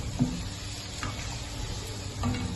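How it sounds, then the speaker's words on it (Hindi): Beef and spices for nihari sizzle steadily in a hot pot, with a continuous frying hiss and occasional stirring scrapes, close and alone. "मसाले गोश्त में जाते ही ज़बरदस्त इसमें से पकना शुरू हो गए हैं"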